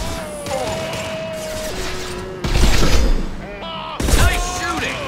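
Gunfire and heavy impacts in the video game Mass Effect 2 sound over background game music and effects, with two loud bursts of shots and booms in quick succession.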